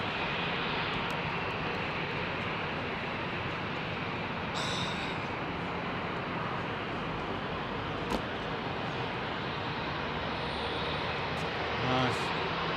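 A fixed-wing airliner taking off from runway 27R at busy Heathrow Airport gives a steady, broad engine roar throughout, mid-distance and continuous, with faint voices and a couple of brief knocks near the end.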